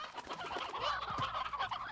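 Chickens and roosters in the video game Slime Rancher cluck and chatter in a busy, continuous flock, fairly close and a little faint, with no talking.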